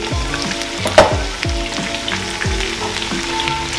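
Lemon pepper chicken sizzles loudly in a pan, a close, steady crackle broken by a sharp knock near the start and several falling tonal sweeps, with no voices.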